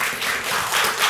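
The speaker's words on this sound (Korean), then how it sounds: "박수로 맞이해 주시고요." Applause from a seminar audience welcoming a professor to the podium at an artist forum, a short steady patter of many hands at moderate level with no voices.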